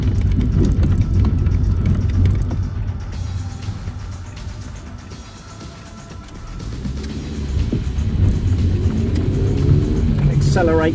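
A 2005 Renault Clio 1.2 16V Dynamique accelerates along a road, its engine a steady low rumble that dips briefly and then builds again toward the end, with someone talking over it inside the car.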